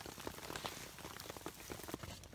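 Hail mixed with rain pattering steadily on outdoor surfaces, a dense, even hiss of small impacts with occasional sharper ticks throughout, fairly quiet and without voices.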